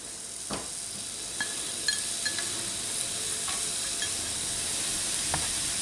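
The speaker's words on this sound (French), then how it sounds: "dans une poêle anti-adhésif, je vais mettre de l'huile de sésame et je vais colorer des oignons nouveaux dedans" Spring onions browning in sesame oil in a nonstick pan give a soft, steady sizzle, with occasional light clicks of a utensil stirring them.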